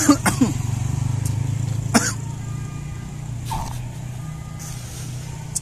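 A person coughs a few times in quick bursts near the start, with another cough around two seconds, over a steady low background hum from a stall selling buko pandan iced dessert.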